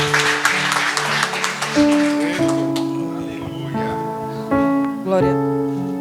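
A church congregation at an Assembly of God family service applauds, a dense burst of clapping at the start that quickly fades beneath sustained organ or keyboard chords.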